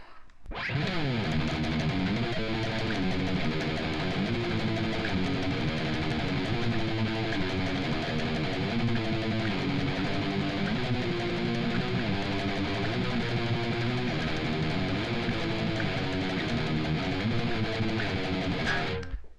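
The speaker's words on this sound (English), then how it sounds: "we do have a distinct guitar riff, and it sounds like this." A dense, distorted electric guitar riff plays loud and continuous, with rapid picked notes driving steadily and no talking over it.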